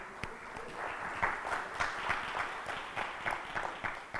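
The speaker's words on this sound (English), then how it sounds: "A big round of applause for him." Audience at a corporate annual meeting giving a round of applause, a sustained crowd of clapping hands with distinct sharp claps standing out in a loose rhythm, moderately distant and without talk.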